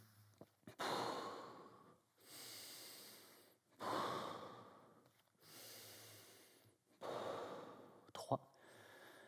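Slow exhalations during a mobility exercise, several long airy breaths of about a second and a half each with short gaps between them, close and soft, with a small vocal sound near the end.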